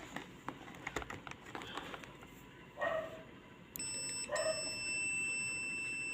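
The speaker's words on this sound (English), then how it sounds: "we'll try to test the buzzer first" Buzzer of a Primedic defibrillator monitor under test sounds two steady electronic tones, the second holding to the end, after a few scattered clicks and taps, close and moderately loud with no talking.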